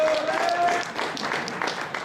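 At a gaming convention, an audience gives a brief round of applause, moderately loud and spread out, with a voice talking over it.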